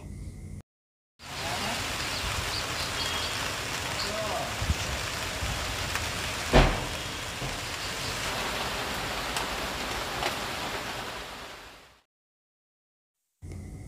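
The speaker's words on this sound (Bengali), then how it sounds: "আর বাইরে কিন্তু অনবরত অঝোর ধারায় বৃষ্টি ঝরেই যাচ্ছে।" Heavy rain pours continuously outside, a dense steady hiss with a single brief knock partway through, bracketed by short silent gaps at the start and end.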